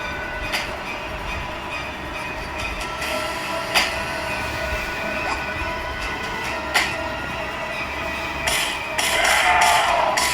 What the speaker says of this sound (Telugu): ఇంకా ద ట్రైన్ ఇస్ గ్లిచింగ్